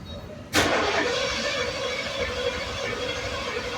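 A Ford Bronco engine turns over after a sudden start, a loud, steady, rough mechanical roar that continues close by for a few seconds without voices.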